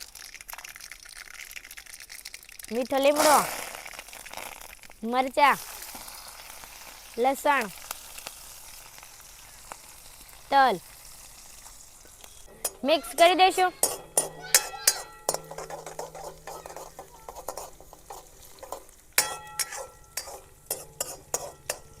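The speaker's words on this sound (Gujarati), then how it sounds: "તેલ ગરમ થઈ જશે તો આપણે રાઈ નાખી દઈશું રાઈ જીરું" Mustard seeds and cumin hit hot oil for methi muthiya, giving a soft steady sizzle with scattered crackles and pops. Several short, sharp chirping accents break through, and a faint voice sits in the background.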